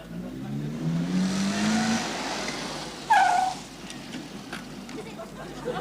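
A car pulls away in an urgent scene from a 1979 television drama, its engine rising in pitch as it drives off under steady background noise, with a brief sharp squeal partway through.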